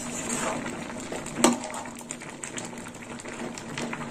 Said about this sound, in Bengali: আর এই সবজির সঙ্গে হেলাঞ্চা শাকটা ভালো করে ফুটবে।